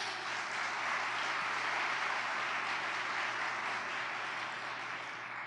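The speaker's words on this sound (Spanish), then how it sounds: "qué tal si les damos un fuerte aplauso?" Steady, dense applause from a large crowd fills the whole stretch at an even, sustained level.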